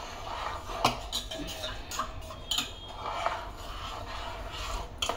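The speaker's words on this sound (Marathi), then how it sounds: "थोडं थोडं घालायचं आणि ढवळायचं, कंटिन्यू ढवळत राहायचं आहे" A spoon stirs a pot of soup being thickened with cornflour, giving soft scraping and clinking against the pot in an irregular rhythm, close and fairly quiet, with occasional sharper knocks.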